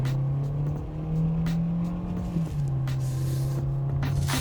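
A 2025 Kia K4 EX car taking corners, with a steady engine drone and road hum throughout and no talking.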